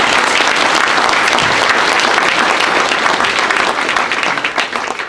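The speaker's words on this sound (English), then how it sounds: "Let's give those folks a round of applause." Sustained applause from an audience at a public library's 100-year anniversary ceremony, honoring library staff; dense, steady clapping throughout that tapers slightly near the end, with no speech over it.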